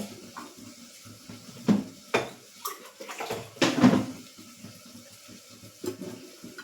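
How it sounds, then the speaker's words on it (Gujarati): Water poured from bowls into a metal pot for mixed lentil and rice flour porridge, with pouring splashes and several sharp clinks of utensils against the pot, close and without talk. "આપણે એનું 3 ગણું પાણી એડ કરીશું"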